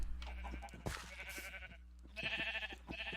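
Sheep bleating in a video game, a few quavering bleats at moderate level over a low steady hum, with a short pause before more bleating.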